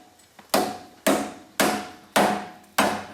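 Five loud, evenly spaced hammer blows ring out on the steel knuckle arm of a Toyota 4WD closed-knuckle front axle, each a sharp metallic bang with a short decaying ring, close up and with no talk.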